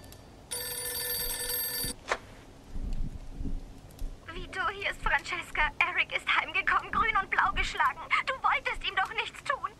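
In the video game Mafia 2, a telephone gives one steady electronic tone lasting a second or so. A pause follows, then game characters talk over faint background sound.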